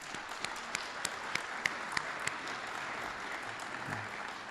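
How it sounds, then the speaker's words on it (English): Audience applause at a Hot Springs Village property owners' association board forum, a steady, fairly distant wash of clapping with a few sharper individual claps standing out. "Let's give them a round of applause."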